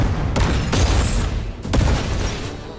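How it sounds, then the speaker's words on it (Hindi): Action-film blasts and bursts of gunfire-like booms crack and rumble in rapid succession, loud and close, with a dense, roaring low end. "इस धमाके की आग यहां तक नहीं रुकेगी"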